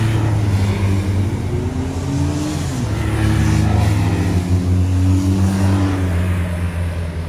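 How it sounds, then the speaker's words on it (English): Tractor engine idling steadily at a Highland agricultural show, a low continuous mechanical drone with harmonic hum held close and loud throughout, no talk over it. "Tractor on, isn't it?"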